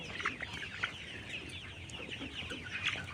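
Vaccinated layer pullet chickens cluck and call at a poultry farm, a busy overlapping flock sound with repeated bright clucks and squawks close by over steady coop noise.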